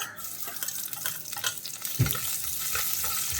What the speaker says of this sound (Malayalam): എണ്ണ നന്നായിട്ട് ചൂടായി കഴിഞ്ഞാൽ അതിലേക്ക് ഒരു 7-8 ചെറിയ ഉള്ളി ഒന്ന് മുറിച്ചത് ഇട്ട് കൊടുക്കാം.